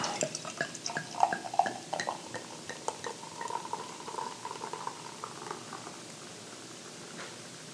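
Tree House Brewing Traverse autumn lager being poured from a freshly opened can into a glass, a steady close fizzing and splashing with small pops and drips that settle toward the end, no voices.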